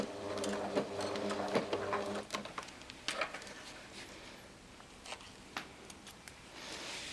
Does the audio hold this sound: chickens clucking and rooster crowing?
no